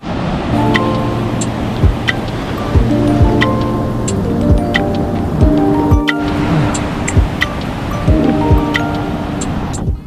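Surf rolls onto a New South Wales beach in a continuous, fairly loud wash, with wind buffeting the microphone and a faint tonal hum running underneath; nobody speaks.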